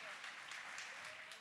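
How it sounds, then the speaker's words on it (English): An audience applauds students at a campus event on tackling antisemitism. The clapping is a dense, steady wash that holds for the whole moment and eases off slightly at the end. "let's give a round of applause to our amazing students fighting the good fight"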